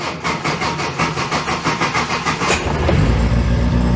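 A classic car engine cranks with a quick rhythmic starter chug, then fires up and settles into a loud, rough idle close to the listener.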